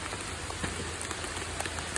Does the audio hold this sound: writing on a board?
no